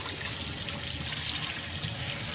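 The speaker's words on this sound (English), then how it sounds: "You want to clean your meat and bathe it good." Tap water runs steadily into a sink as raw meat is rinsed, a constant close hissing stream with no breaks and no talk.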